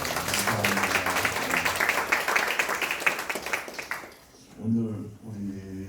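A church seminar audience applauds a choir with dense clapping for several seconds, which then fades out and gives way to someone speaking.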